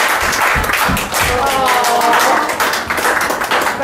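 Family members clap loudly and close by during a homecoming surprise for a soldier back from Afghanistan, a dense flurry of hand claps with voices talking and exclaiming over it.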